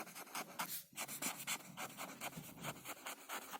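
Marker or chalk scratching on a board during a chemistry lecture, a string of quick rhythmic strokes close by with a short pause, no talking.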